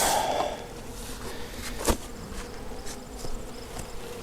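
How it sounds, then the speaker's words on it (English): Bees hum in the top of a hive box while it is opened for a fall check, with a few yellow jackets among them. The dense steady buzzing fills the clip close by, with a brief knock partway through. "A lot of bees up in the top"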